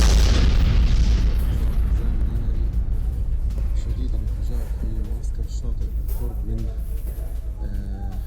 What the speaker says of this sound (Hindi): विस्फोटक धमाकों से तबाह हो गई हमास की इमारत